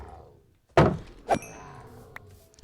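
A shield blocking a hit in Minecraft Java Edition 1.16.4 player-versus-player combat: one loud blunt thunk, then a second lighter knock about half a second later, both close and dry with no talk over them.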